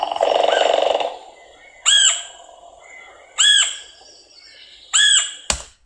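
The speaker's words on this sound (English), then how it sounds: "Okay, so that's our red-headed woodpecker, completely redhead." After a loud harsh opening squawk, a wild red-headed woodpecker gives three evenly spaced yelping calls, loud and close, ending with a sharp knock.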